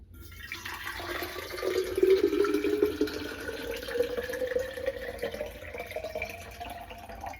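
Water runs steadily from a tap into a water bottle, the pitch slowly rising as it fills, fairly quiet and close.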